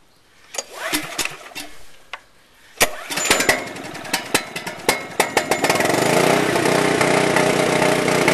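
Small portable generator converted to run on propane from a tank, sputtering through several short start attempts before catching and settling into a steady, loud running drone close by.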